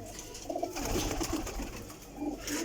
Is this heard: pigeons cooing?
yes